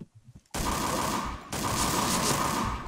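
Rapid automatic gunfire in the PointBlank shooter game, a loud dense burst that starts abruptly after a short quiet moment, breaks briefly, then resumes.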